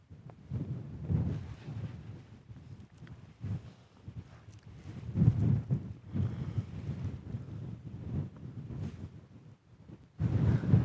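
Wind gusts buffet the microphone at a wild camping spot, giving a low, rumbling roar that rises and falls in strength throughout.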